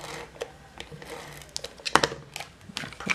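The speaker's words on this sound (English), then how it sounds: "we're going to take our brass" A brass foil sheet handled for a card project, crinkling and rustling close up in a run of soft irregular crackles with a few sharper crinkles, no talking.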